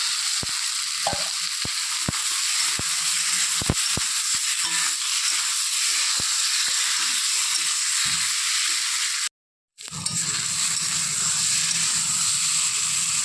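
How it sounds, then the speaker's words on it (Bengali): Steady frying sizzle of boiled potatoes with spices in a pan, with scattered sharp clicks of stirring, briefly cutting out near the end before the crackle resumes. "মশলা ভাজা হয়ে গেছে এখন দিয়ে দিচ্ছি আগে থেকে সেদ্ধ করা আলু"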